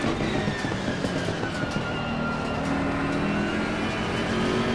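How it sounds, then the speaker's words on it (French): Ferrari GT race car engine at Brands Hatch in Assetto Corsa Competizione, a steady loud drone with rising tonal whine, continuous throughout without a clear pass. "Ça revient derrière en Ferrari."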